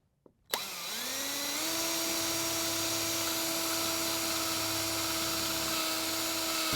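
A power drill spins up sharply and runs steadily at high speed, a loud continuous whine close by.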